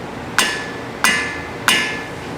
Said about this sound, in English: get yourself a rubber mallet